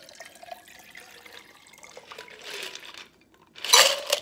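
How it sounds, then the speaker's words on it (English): A Mezcal Paloma cocktail strained from a shaker into a glass over two big ice cubes: soft liquid trickling and pouring, ending in a louder splash and clink of ice near the close. "And then I'm going to strain this into my glass."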